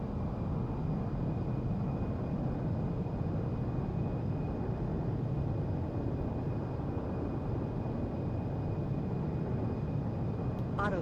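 Airliner thrust reversers roaring during landing rollout in the X-Plane 12 flight simulator, a continuous low, dense rumble of engine noise holding steady throughout, with a faint tonal whine above it.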